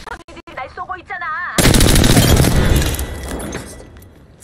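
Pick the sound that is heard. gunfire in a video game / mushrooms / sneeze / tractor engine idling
gunfire in a video game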